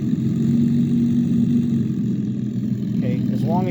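Merlin aircraft engine idling through an RC model sound system, a steady low rumbling drone that holds throughout, with a brief squeaky tonal sound near the end.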